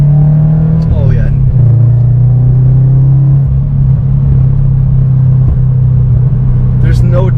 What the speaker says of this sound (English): There's no doubt the car is accelerating so much more.